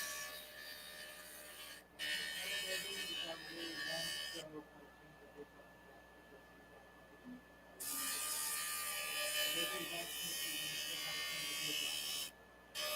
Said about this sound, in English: So I'm going to grind this side, kind of get rid of all this black and see what happens.